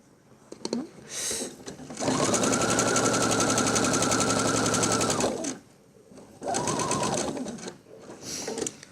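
A sewing machine stitches the curved seam of a ball-shaped coin purse, running in a steady rapid whir for several seconds, pausing, then starting again in shorter bursts, loud and close.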